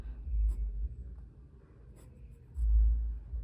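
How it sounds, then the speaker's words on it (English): A pencil sketches the shape of a nose on paper, close and soft, with a few rubbing strokes and brief pauses between them. "And now I'm just gonna go ahead and draw the shape of the nose."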